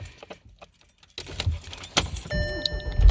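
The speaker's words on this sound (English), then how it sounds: "You want to hold this and then turn the car on." Keys jingle, then the ignition of a Volkswagen car is switched on, with a click, a brief electronic chime tone and a rising hum in a quiet interior.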